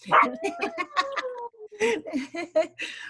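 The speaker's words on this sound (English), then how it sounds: "hey, we hear your puppy" A puppy yaps in quick, high-pitched bursts, a rapid run of barks, a brief pause, then another flurry of yips close by.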